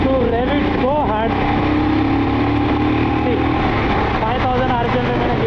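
A Royal Enfield motorcycle engine revs hard and loud up close, its pitch climbing and dropping through quick gear changes around 5000 rpm, with continuous exhaust roar throughout.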